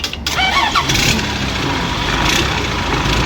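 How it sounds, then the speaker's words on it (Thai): A Hino V8 truck engine cranks and catches at a used-parts yard in Saraburi, settling into a loud, steady rumble close by, with no talk over it. "เอาจิ้มอีกสักรอบ ถ้าปั๊มสายมันจิ้มได้บ่อยๆนะ เพราะว่า เราอยากจะดูว่ามันติดง่ายหรือเปล่า เครื่องฟิตสตาร์ติดง่าย"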